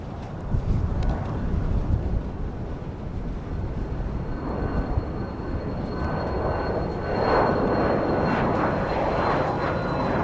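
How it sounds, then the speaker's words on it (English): An Embraer Phenom 300E business jet rolling at Dallas Love Field gives a steady, moderately distant engine roar and rumble for the whole stretch, swelling slightly near the end, with light wind noise and no talk. "An Embraer Phenom 300E is rolling."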